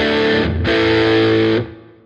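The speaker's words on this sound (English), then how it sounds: "This is double driven, and I've tweaked it slightly. A bit of spring reverb on it" Hartwood Charger electric guitar played through double-driven distortion with spring reverb, a loud sustained chord ringing out, briefly choked, then struck again and held before decaying, with no voices over it.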